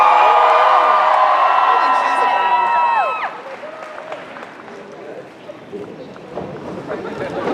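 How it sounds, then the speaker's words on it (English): A large convention-hall crowd at a comic-con TV panel roars with applause and whoops, loud and dense, while an amplified voice rings over it before the noise drops to a steadier clapping wash. "keep that applause going"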